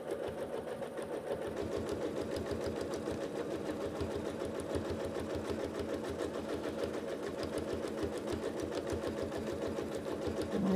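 A sewing machine doing free motion quilting of a fern feather filler design, its needle hammering in a fast, steady mechanical rhythm, close and continuous with no talk.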